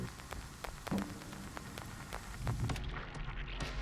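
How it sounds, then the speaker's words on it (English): Steady rain patters and hisses in the video game Raining City: Millions Recollections, with scattered drop taps standing out against a dense, even wash of falling water throughout. "Leo heard raindrops striking the awning"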